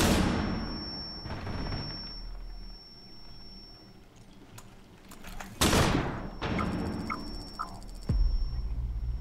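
Gunfire in Rainbow Six Siege gameplay: sharp shots and bursts break out across the clip amid in-game ambience, with a steady electronic tone and loud impacts near the end.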